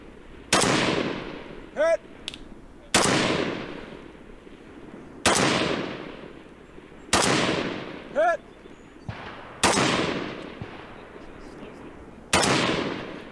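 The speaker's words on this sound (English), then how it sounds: "Shooting at 400 yards with this rifle" Rifle shots are fired at targets about 400 yards away: six loud, sharp reports spaced roughly two seconds apart, each with a long echoing tail, with faint brief tones between some shots.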